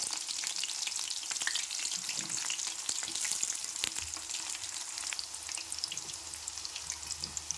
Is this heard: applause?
no